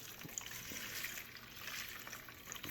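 Pine oil cleaner is poured into a container, a quiet, steady liquid trickle with a faint splashing texture that runs unbroken and low in level.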